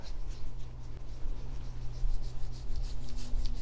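Sunscreen being rubbed into skin gives a soft, steady close-up swishing and rubbing, quiet and continuous with a faint low hum beneath, no talking.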